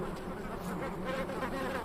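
Bees hum at their nest tunnels in the Sonoran Desert during the prickly pear bloom, a continuous, buzzing drone of many insects at a fairly low, even level.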